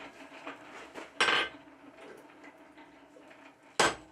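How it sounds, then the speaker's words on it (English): Steel being forged with a cross peen hammer on a rounded anvil corner: two sharp, loud metallic strikes ring out about 2.5 seconds apart, with faint quieter taps between them. "Here I'm working on a really rounded corner of my anvil with the cross peen just to give that transition a little more shape."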